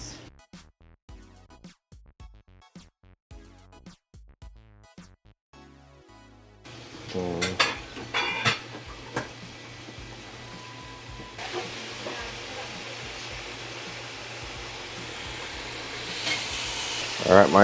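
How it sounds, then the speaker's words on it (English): Scotch bonnet chicken deep frying in oil at 375 degrees, starting with quiet tapping and handling sounds, then a rising bubbling sizzle that grows louder and denser toward the end, with some talk early on. "Alright, this is at 375 right now. Cover that up. Fry for about 10 minutes."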